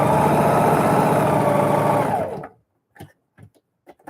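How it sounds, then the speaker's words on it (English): A sewing machine stitching a fabric Christmas bucket hums loudly and steadily for about two seconds, then winds down and stops, followed by a few faint clicks and taps. "When you're sewing, every time you lift up the presser foot, the needle is up, do a little quick back stitch"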